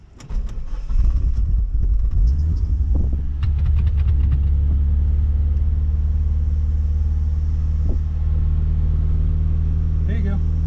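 A Mitsubishi Galant with a 4G63 engine and a slightly sticking starter Bendix cranks briefly, fires up and settles into a steady, loud idle rumble close by, with a few clicks and a voice talking over it.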